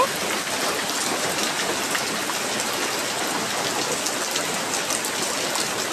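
Heavy rain pours down steadily in a wind-blown downpour, a dense, even hiss that holds at the same loud level throughout with no voices.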